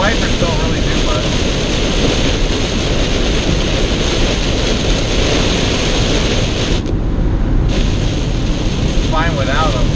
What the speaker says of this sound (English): It's raining pretty good now.